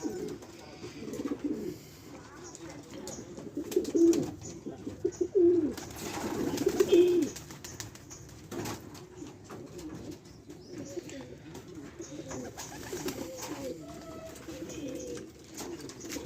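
Domestic pigeons cooing at their loft after a 10 km homing race, repeated low throaty coos in bursts, fairly close, with soft background rustle and faint distant voices.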